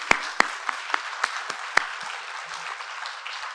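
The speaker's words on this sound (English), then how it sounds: "let's give him a round of applause." Conference attendees applaud with a soft, continuous patter of clapping, punctuated by a few sharp, close individual claps that stand out early and then taper off.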